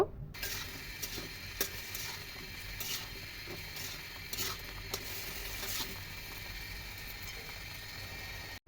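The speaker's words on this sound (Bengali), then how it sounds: "এই ভেন্ডির সাথে এই মশলাগুলোকে একটু ভেজে নেব" Okra fries in a pan with chilli powder, coriander powder and salt, giving a faint steady sizzle with occasional soft scrapes and clicks of stirring.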